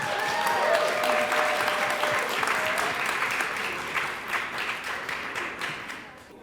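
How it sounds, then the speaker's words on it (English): An event audience at a financial literacy scavenger hunt gives a full round of applause, loud and dense at first, then thinning into scattered claps as it fades, with some voices faintly underneath. "Can we get another round of applause,"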